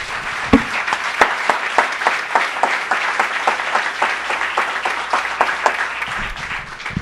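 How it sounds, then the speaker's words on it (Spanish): A church congregation claps in a loud, steady, fairly rhythmic burst of applause that carries on for about seven seconds, close and full. "Démosle un aplauso al Señor, hermano."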